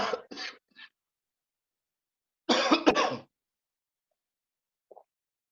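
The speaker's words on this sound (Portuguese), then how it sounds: "Quem tá tossindo aí? Quem está tossindo?" Several sharp coughs ring out in a quiet room: a quick cluster of three, a pause, then a louder double cough, and a faint tap near the end.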